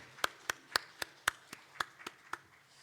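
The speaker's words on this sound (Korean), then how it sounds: "하나님 앞에 영광의 박수 올려드리겠습니다" A church congregation claps in praise at an early-morning special prayer service, heard as about ten separate sharp claps in a steady, evenly spaced rhythm, faint and fairly distant with no voices over them.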